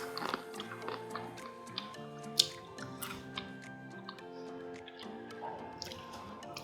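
Close, crisp crunching of cheese Doritos being chewed, soft irregular bites over quiet background music.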